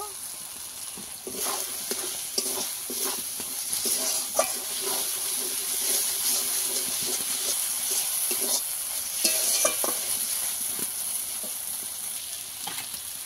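Masala frying in oil for egg curry, stirred in the pan: a steady bright sizzle runs throughout, broken by repeated soft scrapes and stirring strokes, close and moderately quiet.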